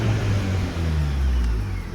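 A car engine rumbling low and steady as the car is driven slowly, close and fairly loud, a continuous drone with no talk.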